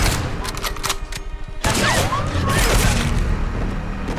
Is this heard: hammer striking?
no